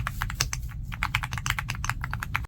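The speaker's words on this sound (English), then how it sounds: "It comes with built-in pluggable mechanical switches that sound like this." Rapid typing on an AULA F99 Pro mechanical keyboard with pluggable switches gives a dense run of crisp, close clacks and thocks in an uneven rhythm until it stops abruptly.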